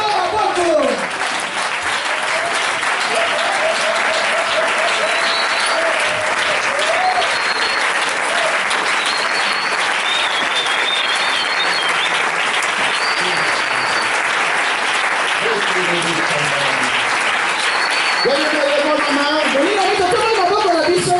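Church congregation applauding steadily and loudly throughout, a dense continuous wash of clapping with cheering voices and a sung or shouted tone rising near the end.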